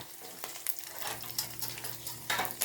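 Beef steak for bistek tagalog fries in oil in a pan, giving a soft steady sizzle with occasional scraping stirs and light pan clatter, fairly quiet and close, with no talking.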